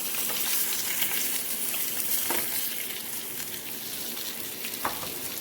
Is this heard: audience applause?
no